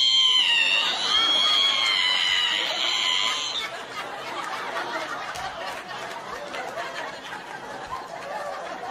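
At a stand-up comedy show, a voice imitates a squeaky ironing board opening with a high, strained squeal lasting a few seconds, followed by crowd laughter and chatter.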